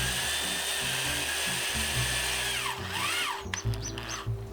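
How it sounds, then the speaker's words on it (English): Power drill driving a screw through bamboo into wood at close range, a steady whining motor hum with rising and falling pitch sweeps near the end, heard alone with no voices. "Now we're going to screw the screw in through the pilot hole that we've"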